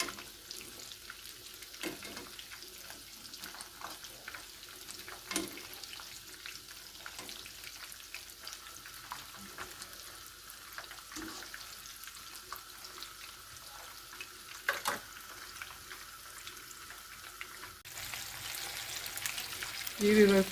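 Chicken pakora fries in hot oil with a steady, soft sizzle and bubbling that runs throughout, with a few faint clinks and a slightly louder burst near the end.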